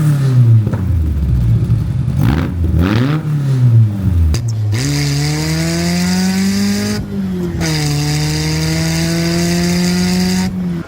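A 2003 Sylva Mojo 2 kit car engine revving loudly and close, with sharp rises and falls in pitch early on before settling into a sustained high, buzzing drone that climbs gradually.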